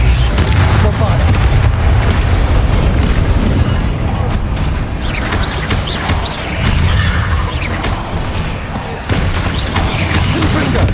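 A Bombarda spell blast in the Hogwarts Legacy game, a dense, loud roaring explosion that fills the whole stretch with continuous rumbling and crashing debris.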